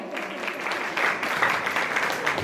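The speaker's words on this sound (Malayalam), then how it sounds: "ഒരു നല്ല കൈയടി കൊടുക്കോ?" Guests at a Kerala engagement celebration clap together after a game session, a moderate, steady round of applause from a small crowd in a room.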